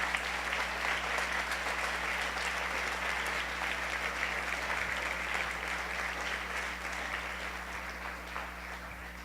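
A church congregation gives sustained, dense applause during a Sunday service. It stays a loud, even roar of many hands for several seconds with no speech, fading only slightly at the end.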